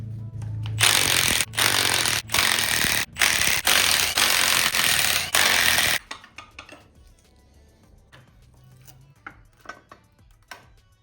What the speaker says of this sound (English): let's go ahead and take the oil pump off and make sure that's nice and resealed